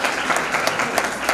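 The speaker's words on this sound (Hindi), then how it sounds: "तालियां बजाते रहो तुम लोग।" An audience claps steadily at a Kumbh Mela 2019 ceremony, the applause dense and sustained, with a few sharper claps standing out near the listener.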